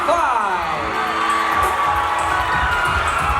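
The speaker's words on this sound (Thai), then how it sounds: "ขอเสียงปรบมือดังๆอีกรอบหนึ่งครับให้กับ Miss Grand Phuket Miss Grand Thailand 2025" A large crowd at the Miss Grand Thailand 2025 final keeps up steady applause and cheering, loud and continuous, while an amplified voice carries over the top of the noise.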